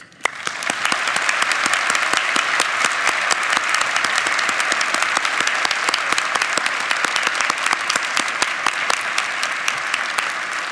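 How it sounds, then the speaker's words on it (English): A large audience at a university nursing school pinning ceremony gives a sustained, dense round of applause for the graduating class, steady and loud from start to finish with no talk over it. "Let's give one last round of applause for this class, for their faculty, and for the families and friends that brought us all here tonight."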